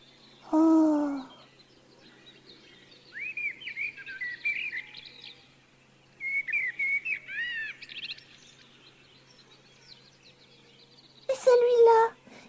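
A common blackbird whistles several rich, fluting warbled phrases with short pauses between them, clear against a quiet background, and voices speak just before and after the song.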